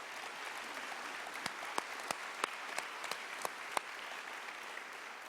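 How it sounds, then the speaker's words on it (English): A conference audience at Cal Poly's fall gathering applauds, a soft, distant, steady wash of clapping with a few sharper, closer claps cutting through at intervals. "Give yourselves a round of applause on that one."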